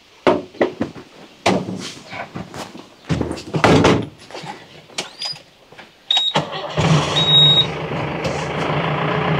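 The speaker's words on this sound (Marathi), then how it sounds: "सुजाताबाई बसा गाडीत" People climb into a car amid a series of sharp door slams and thumps, then a vehicle engine hums steadily with a high beeping tone near the end.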